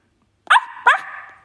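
A cartoonish dog bark effect from a phone face filter, two short bright yips in quick succession with the second trailing into a sustained whine, close and clear with no background.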